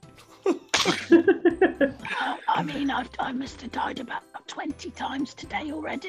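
A single sharp sneeze bursts out near the start of a Minecraft server stream, followed by a person talking casually.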